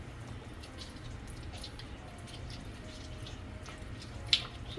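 Quiet running water trickles and drips as ackee is washed with lemon in a sink, with a small splash near the end and no voices.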